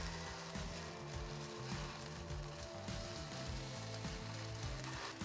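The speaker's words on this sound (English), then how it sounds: "You hear that sizzle action." Hot sausage sizzles on a hot flat top griddle, a dense, steady crackling hiss close up that runs the whole way under a low, rhythmic background thump.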